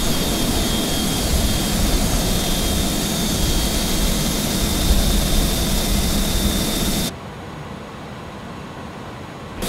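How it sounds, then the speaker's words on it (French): Airbus A300-600F jet engines in Microsoft Flight Simulator give a loud, steady broadband roar with a thin high whine, then drop abruptly to a quieter, duller hum near the end. "En vue d'allumer les moteurs"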